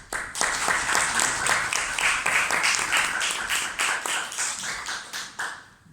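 Audience applause at an event, a steady, dense patter of many hands clapping at moderate volume that gradually thins and fades toward the end.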